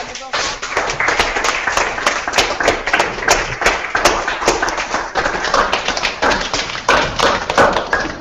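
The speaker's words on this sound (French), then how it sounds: "On peut les applaudir." An audience applauds school pupils, a dense, loud patter of many hands clapping at once that carries on throughout, with a few sharper claps standing out near the front.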